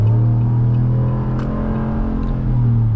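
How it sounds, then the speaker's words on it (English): A 2026 Ram 1500 Laramie's HEMI V8 with sports exhaust rumbles steadily at close range, a deep, loud, continuous engine drone with slight swells and no talking. "That sports exhaust will always let you know you have a Hemi as well."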